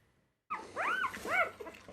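Newborn Labrador puppies whimper in close, high, rising and falling whines that break out suddenly after a moment of silence and keep going in short overlapping bursts.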